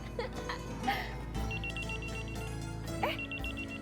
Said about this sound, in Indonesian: HP-nya Bagus bunyi.